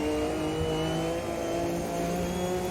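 A steady, droning race car engine note from a Porsche 962C at Daytona in the Automobilista 2 sim racing game, held at constant revs on a cool-down lap with no talk.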